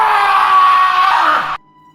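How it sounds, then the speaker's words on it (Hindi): A boy named Ajay, alone in a village school at night in a Hindi horror cartoon, gives one loud, drawn-out scream that holds steady for about a second and a half, then cuts off abruptly. "अजय ने चीख मारी।"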